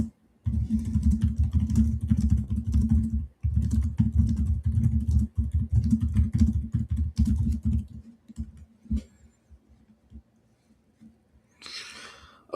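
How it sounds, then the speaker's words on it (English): Rapid keyboard typing, loud and close, runs in a steady clatter for about eight seconds with one short pause, then fades to sparse clicks; a faint higher rustle appears near the end. "Sorry, I gotta do lots of typing."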